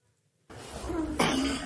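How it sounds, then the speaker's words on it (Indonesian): A sharp cough bursts out after a brief silence, followed by a second harsh cough, close and fairly loud. "Batuk."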